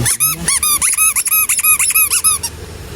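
A squeaking toy egg squeaks over and over in quick, bouncy pitched chirps, about a dozen in a row, loud and close, with no talking.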